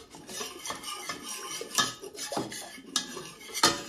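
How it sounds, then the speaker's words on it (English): A Dutch whisk scrapes and clinks against a pan while cauliflower cheese sauce is worked smooth, with irregular close metallic strokes and rubs and no talking. "So just whisk that. My other whisk might be better. This is a Dutch whisk."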